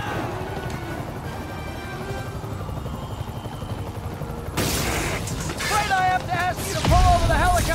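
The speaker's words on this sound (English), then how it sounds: "I need to disable the helicopter's engines." Helicopter engines in a Spider-Man video game drone and rumble steadily. Rapid popping bursts and game sound effects sit on top, and a voice is heard over them near the end.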